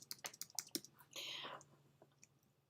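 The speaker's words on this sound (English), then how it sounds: "I'm hitting Option on my Mac keyboard." Keys clatter quickly on a Mac computer keyboard, a short burst of close, soft clicks followed by a brief hiss and then quiet.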